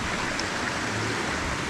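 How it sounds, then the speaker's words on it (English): Cold Whipsaw Creek flowing beside a trail, a steady broadband rush of moving water that stays constant and fairly loud throughout, with no voices. "It's quite a nice little creek."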